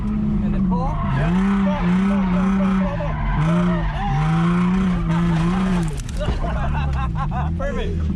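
A car accelerates hard in second gear, its tires squealing in a loud, sustained wavering whine over steady engine drone that cuts out briefly near the end, with voices talking alongside.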